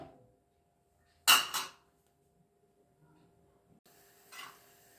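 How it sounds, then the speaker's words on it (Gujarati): A spoon stirs sugar into rice-flake sheera (halwa) cooking on a low flame, giving one short, sharp scraping swish, then a fainter second stir a few seconds later amid near silence. "ખાંડ પણ એમાં આપણે એડ કરી અને ધીમે તાપે આ હલાવીએ, બરાબર।"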